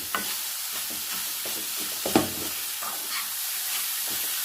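Cooked, mashed chana dal being stirred into melting sugar in a pan, a continuous soft sizzle with scattered scraping and stirring strokes close by.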